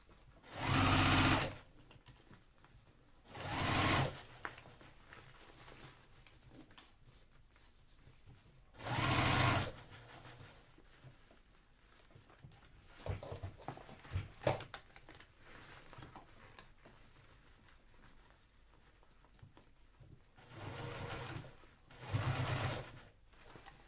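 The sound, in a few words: sewing machine back stitching a seam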